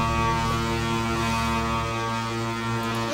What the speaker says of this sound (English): how the horn goes on this ship